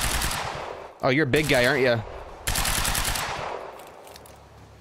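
Bursts of machine gun fire in the shooter game Quantum Break, loud rapid volleys that stop and start, interrupted by a stretch of someone talking over the gameplay.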